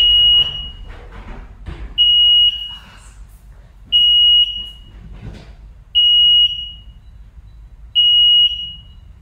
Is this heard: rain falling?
no